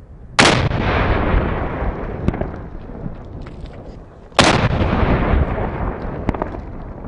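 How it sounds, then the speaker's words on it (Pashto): Two loud, sharp blasts from the controlled detonation of explosives found in a car in Nangarhar, spaced about four seconds apart, each followed by a long rumbling decay, with faint crackles between. "امنیتي ځواکونو د ننګرهار ولایت غنیخیل ولسوالۍ اړوند د 25 ویالې په سیمه کې په یو رادالټو موټر کې یوند 14 کې توکي چې په ډیر مهارت سره ځای پر ځای شوي کشف او چاودنه ورکړه."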